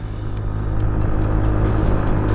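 A Yamaha Tricity scooter engine idling steadily just after starting, a close, loud, continuous low rumble with even tone and no talking.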